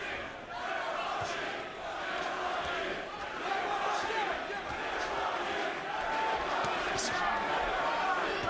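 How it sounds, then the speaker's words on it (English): A large boxing-arena crowd roars and chants steadily during a professional fight. The dense, loud, continuous crowd noise swells slightly over time. "Crowd chanting Triple G, Triple G."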